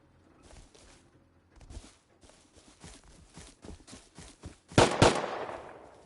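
Turret or player gunfire in Rust Console Edition: scattered distant shots and bursts, building to two loud close cracks near the end, with footstep-like thuds between.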